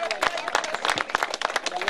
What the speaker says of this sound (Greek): Ένα χειροκρότημα για τον Βασίλη.